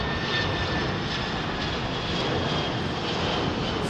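Broadband roar of a Boeing 767 airliner at London Heathrow Airport, a continuous steady jet engine rush heard at moderate distance with no talking.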